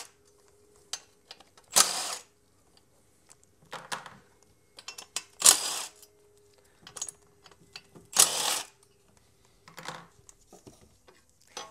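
A ratchet clicks in short, close bursts as 8mm bolts are loosened on the crash shield of a Peugeot/Citroen/Ford 2.0 diesel DW10 engine. Sparse metallic ticks and handling noises fill the gaps, against a faint steady hum.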